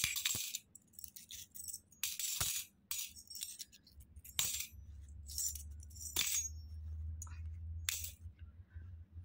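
Coins drop one at a time into a Kubera pot, about eight sharp metallic clinks spaced a second or so apart over a faint low hum.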